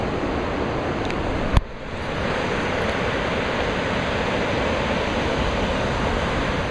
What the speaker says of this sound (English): This is a very exclusive, unknown surfing beach, and it's got just the right conditions